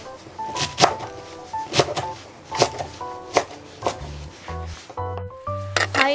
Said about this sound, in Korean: 역시 송송 썰어줍니다.